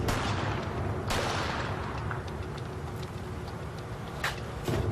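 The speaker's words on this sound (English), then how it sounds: "Once she's already in the car, she's shot." Gunshots ring out in a crime reenactment as a woman is shot in a car, with several sharp cracks over a dense, noisy background.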